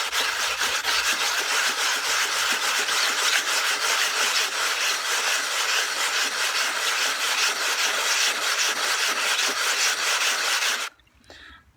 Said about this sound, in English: Just wet your rock and just start sanding away